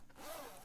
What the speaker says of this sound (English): That's the way the zipper was supposed to sound on the one from OC.